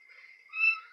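A newly adopted cat gives a soft, faint meow that swells briefly midway and then fades, heard alone in a quiet indoor room.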